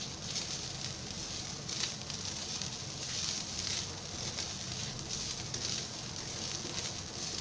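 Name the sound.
masala roasting in oil in a pan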